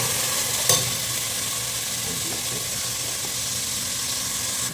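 Spices frying in ghee for mutton biryani hiss in a continuous, fairly loud sizzle, with a sharp crackle near the start and soft stirring movement throughout, and no speech.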